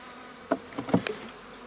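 Honey bees buzz close by in a hive, with a few brief louder buzzes from individual insects passing over a faint, steady hum.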